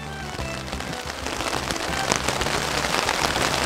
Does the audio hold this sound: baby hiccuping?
no